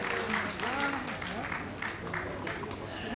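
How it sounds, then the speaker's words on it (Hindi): Audience applause for honorees at a Rajasthan Sangeet Natak Akademi Kala Purodha award ceremony, a steady clapping wash that runs the whole time under a voice. "जोरदार तालियों से स्वागत कीजिए हमारे पुरोधाओं को।"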